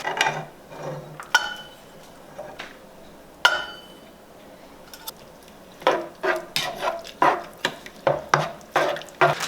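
A spoon stirs shredded cheddar cheese into a cream and ground meat mixture in a pan, producing scattered scrapes at first, then a quicker run of close, rhythmic clinks and knocks.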